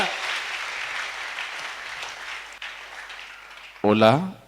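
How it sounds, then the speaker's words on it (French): Church congregation applauding during a sermon, a sustained clatter of many hands that fades gradually, followed by a voice speaking briefly at the end. "Acclamons très fort pour Jésus."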